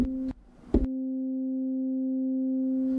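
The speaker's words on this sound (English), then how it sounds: "you get the notes that play, but they just kind of cut off" Two short, dry synth notes from Maschine with the release turned all the way down stop abruptly, followed by a sustained pure tone that holds steadily to the end.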